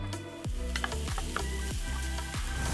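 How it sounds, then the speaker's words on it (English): Garlic and onion sizzle and crackle in hot chicken fat in a single pan, a steady close frying hiss with a few stirring scrapes and soft thumps, no voices. "I'm going to add some garlic and some onion."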